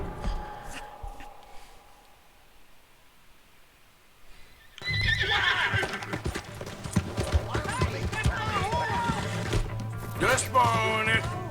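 Horse hooves clip-clop and a horse neighs in Red Dead Redemption 2, following a quiet stretch and mixed with game voices and rising action noise in the second half.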